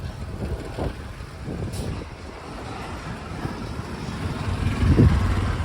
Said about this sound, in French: je ne vais pas doubler le camion